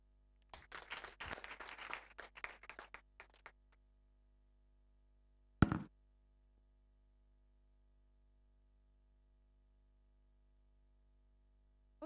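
An audience claps for a speaker named Beth: a few seconds of scattered, faint clapping from a handful of people, then near silence broken by a single dull thump.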